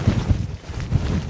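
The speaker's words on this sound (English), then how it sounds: "even though it's very windy" Gusty wind buffeting the microphone on the Glyderau mountain ridge, low rumbling blasts that surge and ease in quick pulses.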